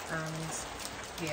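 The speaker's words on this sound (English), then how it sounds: "You can hear the rain right now on the roof of the van." Rain drumming on the roof of a campervan, a steady patter and hiss heard under a man's brief speech.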